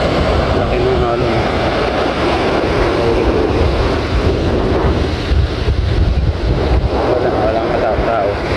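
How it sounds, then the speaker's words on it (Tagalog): Big waves rolling along a seaside shore beside resorts, heavy continuous surf rumble mixed with strong wind buffeting the microphone, loud and unbroken throughout. "Laki ng alon."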